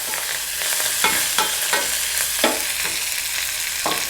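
Coriander leaves are sautéed briefly in a hot tempering for temple-style curd rice, with a soft continuous sizzle and a series of spatula scrapes against the pan, and no one talking.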